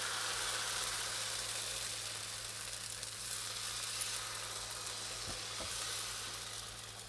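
Spiced zucchini pancake batter sizzles in an oversized frying pan, a steady hiss of hot oil that holds evenly and softens slightly toward the end, with a few faint clicks near the close.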